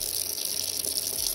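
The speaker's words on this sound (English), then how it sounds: "I am going to turn on the water and" Water runs steadily from a tap into a sink, a continuous close hiss and splash with no talk over it.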